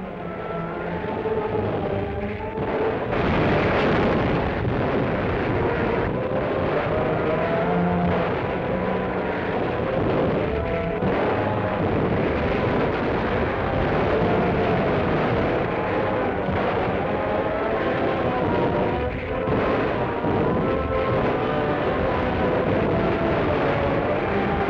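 Dense, muffled rumble of naval bombing of ships off the Marshall Islands in a 1941 newsreel, with a continuous booming roar and swelling blasts under a narrow, dull old-film sound.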